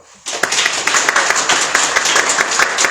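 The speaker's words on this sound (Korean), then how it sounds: "하나님께 영광의 박수 올리고" A church congregation at a Sunday service bursts into clapping after a sermon, sharp rhythmic handclaps starting abruptly and continuing briskly, close and loud.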